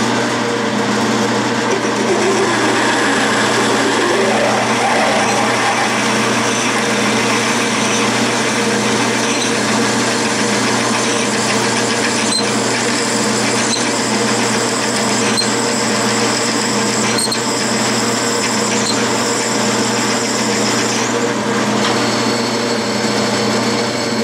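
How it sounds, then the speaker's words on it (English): A metal lathe runs steadily while a half-inch bit drills into metal stock for a bell center punch, a loud continuous machine whine and hum with faint scraping from the cut, and no voices. "I'm going to go in there with a half inch bit up to where you see that black line"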